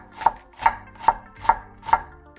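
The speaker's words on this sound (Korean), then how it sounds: "양파 3분의 1개를 잘게 썰어주세요" An onion being finely chopped with a knife on a board, five crisp evenly spaced close strokes about half a second apart, no talking.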